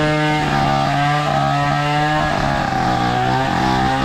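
A chainsaw runs steadily and loudly at a boat-building site, its droning engine holding an even, buzzing pitch throughout with no pauses and no voices over it.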